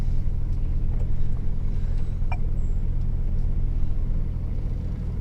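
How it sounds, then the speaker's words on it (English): A loaded truck carrying cucumbers drives on the road in Turkey, giving a steady low engine and road rumble heard from inside the cab, continuous and fairly loud with no talk. "As you can see, we are driving."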